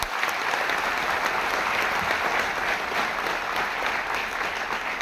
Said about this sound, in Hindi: एक बार जोरदार ताली हो जाए कंपनी के लिए।